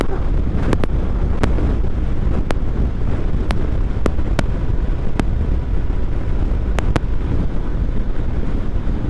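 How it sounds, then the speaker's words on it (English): Strong, steady wind buffets the microphone throughout, a constant roaring rumble with a few sharp clicks scattered through it. "Maybe it's a bit windy to be doing that."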